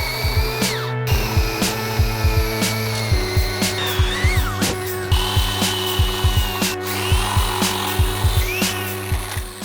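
Power drill boring a series of holes into a wooden block for a Fallout Broadsider prop build, a steady motor whine broken by repeated short bursts of cutting, close and loud with no talk.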